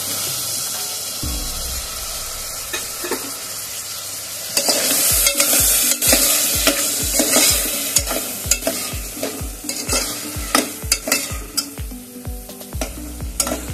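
A spoon scrapes and stirs Mumbai-style pav bhaji mixture in a hot pan, with a strong sizzle and a series of rhythmic knocking strokes, close and loud, no voices.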